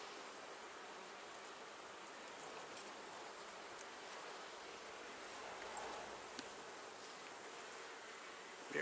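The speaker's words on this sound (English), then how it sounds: "You can see all the bees working up here" A soft, steady buzzing of many honey bees on a hive frame hums close by, a faint continuous drone with no talking over it.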